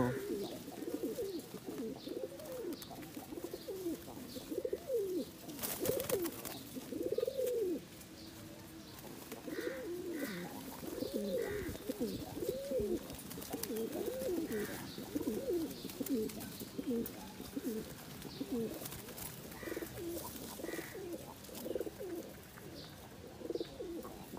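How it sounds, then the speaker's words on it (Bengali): Kaldom pigeons coo in repeated soft, rolling phrases, several birds overlapping close by, with light chirps and faint background noise. "বেশিরভাগই কবুতর হচ্ছে কালদম।"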